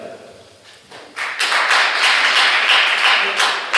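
Audience applause at a McHenry mayoral candidates' forum swells in suddenly after a quieter moment, a dense wash of clapping that holds steady and fairly close, with some voices mixed underneath.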